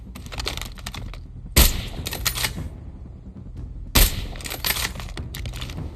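Sniper rifle fire in the mobile shooter COD Mobile: two loud, sharp shots about two and a half seconds apart, over a bed of light clicking and game ambience.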